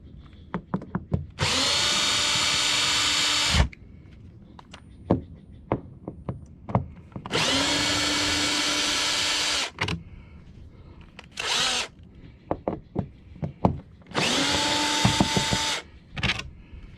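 A power drill runs in three sustained bursts of about two seconds each, backing screws out of a plastic boat bow panel, with clicks and knocks of handling between bursts and no talk.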